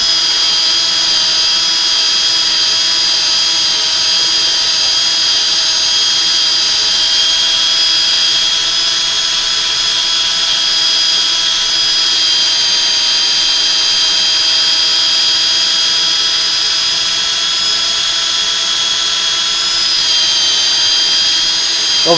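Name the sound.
sanding a chamfer with 240 grit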